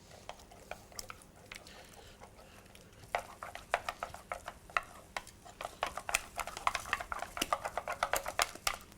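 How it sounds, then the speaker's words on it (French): Egg being stirred into choux pastry dough, a quick sticky slapping and clicking of a utensil working the paste in a bowl, growing louder and faster as the mixing speeds up. "J'incorpore mon deuxième œuf."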